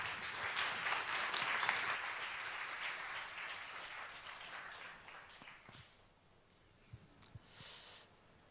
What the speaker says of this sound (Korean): 나오실 때 우리 박수로 함께 환영하겠습니다.